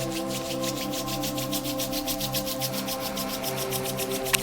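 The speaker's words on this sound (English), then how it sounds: "palms rubbing" Palms rubbing together in a rapid, even back-and-forth rhythm, a close, soft swishing friction over a steady background hum of rain.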